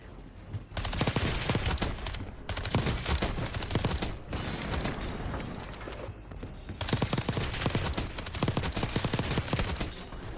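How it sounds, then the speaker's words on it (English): Explosions and heavy gunfire from an enemy airstrike in Call of Duty Warzone, a dense, loud barrage of rapid blasts and rattling impacts that runs continuously, with brief lulls, across the whole stretch. "Enemy airstrike in the area."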